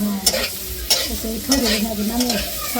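Pointed gourd (potol) frying in oil in a pan, a close steady sizzle with repeated scraping stirs of a spatula roughly every half second, no talking.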